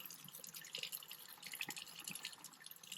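Running water rinsing loose dirt off a dug-up old bottle, a faint close trickle and splashing drips over about three seconds, no voices.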